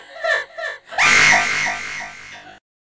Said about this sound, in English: I heard a scream